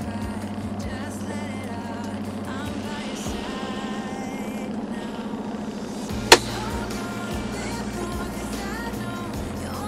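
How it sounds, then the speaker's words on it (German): A parked truck's air brake being set, one sharp hiss-burst standing out midway over a steady low engine drone, no talk. "jetzt habt ihr die Bremse gehört, das heißt Feierabend"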